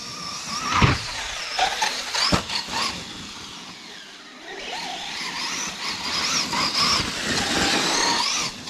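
An RC car takes a simple, slow jump, its electric motor whining and tires skidding with sharp squeals, then a quieter moment before the motor winds back up and runs steadily nearby.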